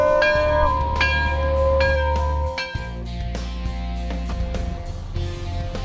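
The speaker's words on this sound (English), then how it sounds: "Somebody ring the bell!" Bell tones ring out over a loud, steady musical backing at a car dealership, with several struck chimes sounding in succession.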